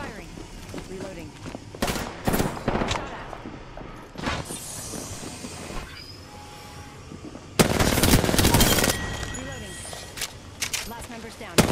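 Gunfire in the Apex Legends battle royale game: repeated sharp shots and bursts, with a sustained loud volley near the end, over game ambience and occasional voice.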